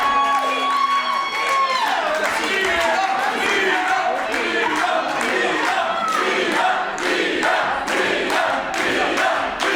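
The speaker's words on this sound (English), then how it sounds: "A raucous crowd cheering on the challenger." A raucous crowd in a women's wrestling arena cheering on the challenger during an international title fight, a loud, dense roar of voices and shouts running continuously from start to finish.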